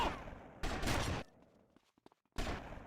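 Booming Magnum pistol gunfire in GTA Vice City Definitive Edition comes in two loud, sudden blasts separated by a short quiet gap with faint clicks.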